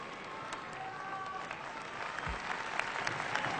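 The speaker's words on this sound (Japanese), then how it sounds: "今高々と惜しみない拍手" Steady applause from a large crowd at a women's professional wrestling match fills the space, a dense wash of clapping that holds evenly throughout with slight swells near the end.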